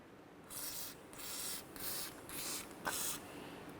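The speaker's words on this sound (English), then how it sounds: "spray down the rotor with some penetrant to help relieve it from the wheel bearing" Penetrant sprayed from an aerosol can onto the brake rotor of a 2005-2010 Chevrolet Cobalt, heard as four or five short hissing bursts separated by brief pauses, close and fairly quiet.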